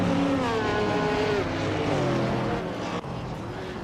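Race cars, including a 1982 Ford Mustang, driving in a race, heard as a loud, continuous engine drone with shifting pitch as the cars pass close by.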